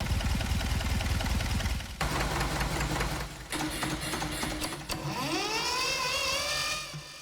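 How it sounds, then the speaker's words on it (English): A loud, continuous synthesized engine rumble from a free audio plugin, with shifting tones, changing character a few times and ending in a rising whine. "it sounds like an engine basically of cars and engines"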